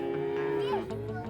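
Cattle on a family farm moo in a long, drawn-out low call that rises and bends near the end, loud and close over a steady farmyard background.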